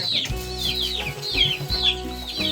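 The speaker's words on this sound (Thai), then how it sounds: "มีไก่น้อยแล้วก็มีไก่น้อย2 ตัวกินข้าวอยู่" Two little chickens cluck in a repeating pattern while pecking at rice with sliced fruit in a rainy-season garden, close and fairly loud with no talking.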